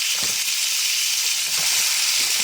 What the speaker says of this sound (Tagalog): Gigisa ko na lang siya.